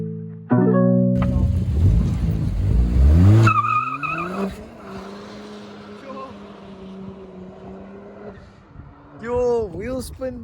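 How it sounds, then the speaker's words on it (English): Car wheel spin on a car fitted with a stainless steel exhaust: a loud engine roar and rising rev with tire noise builds up front, then settles into a steady drone, with voices talking over it. "Wheel spin and everything."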